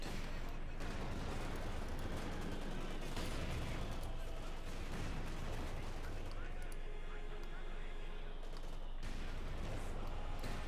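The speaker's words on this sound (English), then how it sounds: "More shots fired now, connecting." Gunfire in Company of Heroes 2, a World War II strategy game, as Wehrmacht and Soviet forces fight over a victory point: dense overlapping shots and distant battle rumble run continuously and loudly, with a commentator's voice mixed into the din.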